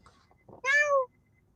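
A small rescued street kitten gives one clear, close meow, a short rising-falling cry in an otherwise quiet space with faint rustles before it.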